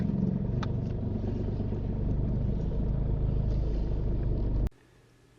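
A car drives along a road during a driving test, its steady engine rumble and road noise continuous and close until it cuts off abruptly near the end.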